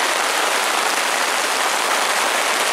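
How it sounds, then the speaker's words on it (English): Heavy rain drums steadily on a blue Walmart tarp over a car campsite in Deer River State Forest, a loud, dense, unbroken hiss of drops with no pauses. "this will be the first time the old edge tarp's been out in the rain"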